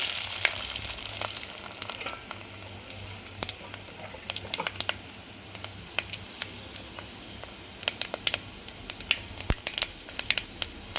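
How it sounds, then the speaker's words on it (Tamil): Urad dal, mustard seeds and fenugreek tempering in oil in a kadai for brinjal kuzhambu, a continuous close sizzle with scattered sharp pops and crackles throughout. "கொஞ்சமாக உளுந்தம்பருப்பு கடுகு வெந்தயம் இதை போட்டு தாளிச்சுக்குவோம்"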